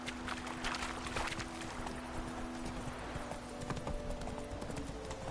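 Roach, the horse in The Witcher 3, trots along with a steady, close clip-clop of hooves, moderately loud over a faint game-world ambience, with no talking.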